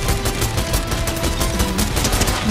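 Gunfire in the video game Fortnite, a loud, busy burst of repeated shots packed closely together across the whole moment, with no talking over it.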